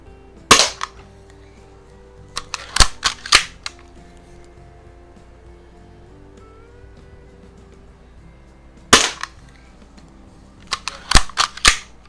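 Sharp cracks from a vintage Daisy Model 25 BB gun fired at a paper target, a spaced series of single shots in two bursts with quiet gaps between, close and crisp.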